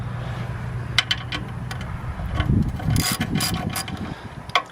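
A part is screwed into a Cummins diesel injector pump being reinstalled on a Case 580 backhoe, giving a series of small metallic clicks and ratcheting taps over a low background hum.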